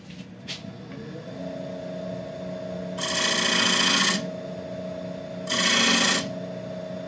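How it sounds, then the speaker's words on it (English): A ProComfort dovetail woodturning tool cuts detail lines into a workpiece spinning on a lathe: two harsh, scraping bursts of about a second each rise over the steady hum of the lathe motor, close and fairly loud. "I'm just going to use the dovetail tool again, just to give us a couple of nice detail lines in there."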